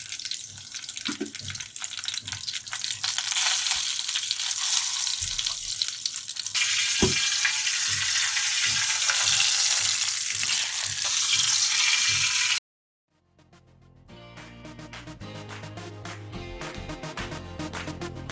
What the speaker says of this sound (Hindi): इसमें हम गोल लाल मिर्चें ऐड कर देंगे, हरी मिर्चें ऐड कर देंगे और हल्की आंच पे इसको फ्राई करेंगे